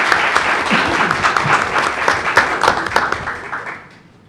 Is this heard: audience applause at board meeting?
yes